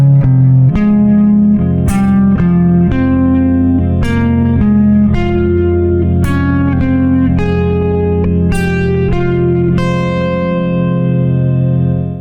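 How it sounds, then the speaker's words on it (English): Electric guitar playing a melodic line of larger ascending leaps across the strings in one position, about a dozen distinct notes over a sustained low note, with a slightly effected, reverberant tone, loud and alone. "I also want to practice that same idea of larger ascending leaps by playing across the strings in position"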